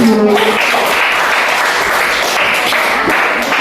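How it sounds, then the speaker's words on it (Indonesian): Seventh-grade students in a classroom clap together, loud close applause that starts right after a brief voice and continues steadily to the end. "kalau sudah tepuk tangan dulu dong"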